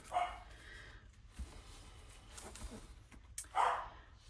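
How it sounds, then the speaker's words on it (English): A dog barks indoors with a few short, excited yips and barks, a pair of sharper ones at the start and near the end, faint and at a distance in a quiet room. "sorry for my dog,"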